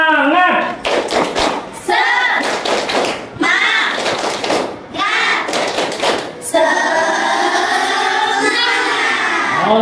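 A classroom of students does a rhythmic clapping ice-breaker, loud bursts of hand claps and thumps in patterned groups, mixed with children's voices calling along, ending in sustained group chanting.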